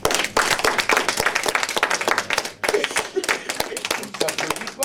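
A stage performer at a storytelling show claps for himself; close, steady, brisk hand claps run through the whole stretch with a short break midway, while voices murmur underneath.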